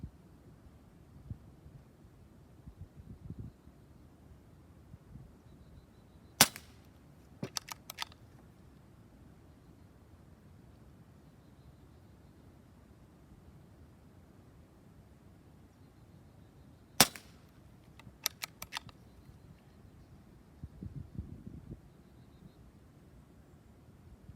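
Benjamin Marauder PCP air rifle fitted with a Walther barrel firing pellets outdoors, two sharp cracks about ten seconds apart, each followed by a few faint ticks, over a low steady background hum.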